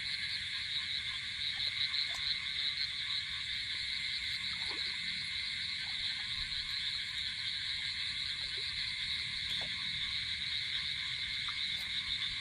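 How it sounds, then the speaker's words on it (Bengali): A dense, continuous chorus of frogs croaking at night, steady and unbroken, with a few faint clicks scattered through. "ব্যাঙের ডাক, ঘুঘুরের ডাক, বিশাল বিশাল আওয়াজ হচ্ছে।"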